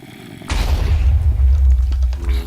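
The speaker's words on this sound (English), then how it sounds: "And of course, who could forget this grenade?" A grenade detonating in the Flan's Mod add-on for Minecraft sets off a loud, close boom after a half-second of quiet, then a long deep rumble that carries through the remaining two seconds with crackling debris on top.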